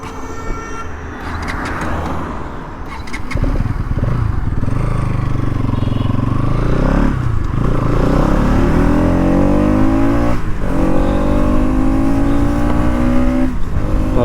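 Bajaj Pulsar NS200 motorcycle, 2024 model, accelerating hard on an open road test ride, engine note climbing steadily through repeated rising sweeps as it pulls through the gears, loud and close with continuous wind and road noise.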